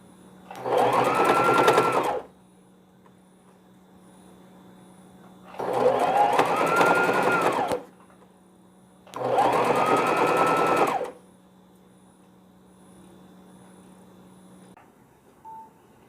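An electric sewing machine stitches the yoke of a newborn baby's small frock in three steady, loud two-second runs of rapid whirring, separated by quiet pauses with a faint background hum.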